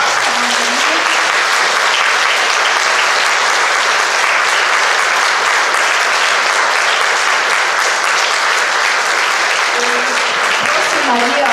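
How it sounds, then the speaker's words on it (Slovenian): Loud, continuous audience applause at the Slovenian Farm Woman of the Year 2020 and 2021 ceremony, even and unbroken, with brief voices faintly audible at the start and end. "Da lahko še enkrat zaploskamo za njih."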